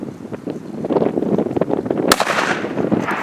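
A single sharp rifle shot fired at a cow elk cracks out loud midway through, standing out above steady outdoor wind noise.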